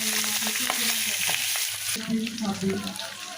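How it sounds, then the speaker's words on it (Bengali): Pieces of rohu fish frying in oil sizzle loudly and spatter up close, with scraping and stirring sounds and a shift in the sizzle partway through. "এখন টমেটো সস দিয়ে যে মাছ রান্না করবো মাছ ভেজে নিচ্ছি"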